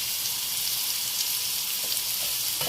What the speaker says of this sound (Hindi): इसे हमें फ्राई करना है अच्छी तरह कि हमारी प्याज सुनहरी हो जाए